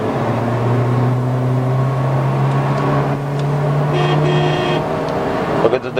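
Nissan Juke crossover engine revving in sports mode, a steady loud drone with rising tone held for several seconds, then cutting off with a brief clatter at the end.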